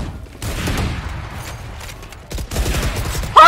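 Gunfire in the game Valorant, a close, loud volley of rapid shots with a sharp crack right at the end, and no talk over it.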